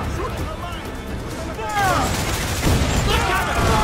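Gunfire in Assassin's Creed 4 Black Flag: a ragged burst of shots crackling close and loud over a busy game din, with another volley joining in partway through.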